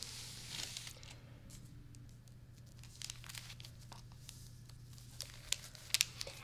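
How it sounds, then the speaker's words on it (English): Soft paper crinkling and rustling as it is pressed flat by hand, with a few sharper crackles near the end over a low steady hum. "I'm just going to keep smoothing the paper."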